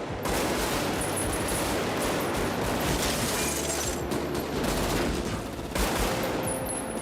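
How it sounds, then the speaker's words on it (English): Dense, sustained gunfire from the street shootout in the 1995 crime film Heat, a continuous barrage of overlapping shots that stays loud and unbroken for several seconds with no talking. "The shootout remains one of the most realistic depictions of gunfire in cinema history."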